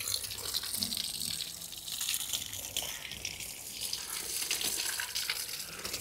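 Water gushing steadily from a tap in a village setting, a continuous broadband splashing rush that stays at an even level throughout.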